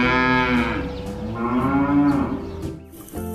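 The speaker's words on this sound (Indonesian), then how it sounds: "ini sapi limosin" A toy Limousin cow gives a loud, drawn-out electronic moo with a rising and falling harmonic tone. It plays alone with no talk for about three seconds.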